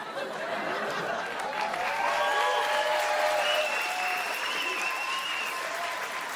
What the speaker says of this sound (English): Why are you guys clapping?